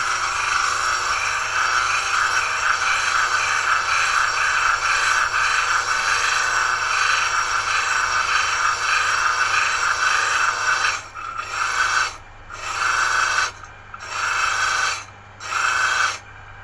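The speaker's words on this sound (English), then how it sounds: "we're going to put it on our disc sander here" A disc sander grinds down a speaker isolation pod, a loud, steady whirring rasp for about eleven seconds, then broken into several short bursts as the piece is lifted and pressed back against the wheel.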